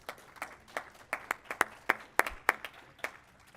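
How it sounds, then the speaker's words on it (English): A small audience at a local business pitch competition applauds a guest judge, with light, scattered clapping and a few sharper claps standing out against a quiet room. "A round of applause, please."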